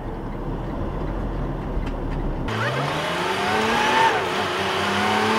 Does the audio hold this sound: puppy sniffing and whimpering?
no